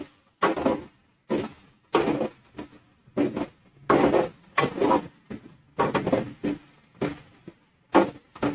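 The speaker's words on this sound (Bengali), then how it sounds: "আদাটা একটু নেড়ে নিতে হবে" A utensil scrapes and stirs ginger in a cooking pan in a steady rhythm of short, close scraping strokes with brief pauses between them.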